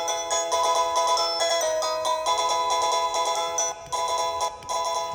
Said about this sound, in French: il y a vraiment du choix en termes de sonnerie